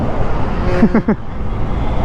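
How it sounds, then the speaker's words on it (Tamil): Steady road traffic rumbles close by, with engines droning throughout and a vehicle briefly rising above the constant noise. "இங்கே பாருங்கள் எவ்வளோ டிராஃபிக்னு, சத்தியமாக முடியல"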